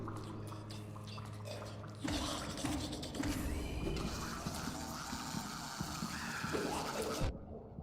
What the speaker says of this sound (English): I'm assuming it's just water underneath of us.